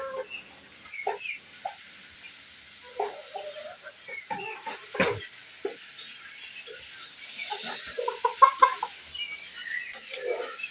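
Fayoumi chickens cluck in short, scattered bursts close by, with a sharp louder call near the middle and busier clucking toward the end over a faint steady background hiss.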